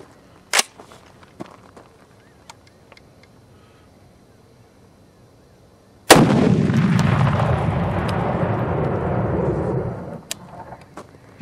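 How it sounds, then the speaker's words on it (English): A Bushmaster ORC AR-10 .308 rifle fires a Russian round: a sharp crack early on, then a loud blast at about six seconds followed by a long, roaring rumble that fades after several seconds, all outdoors with no talking. "that Russian round that failed to fire, I got it right here. We're going to try it again."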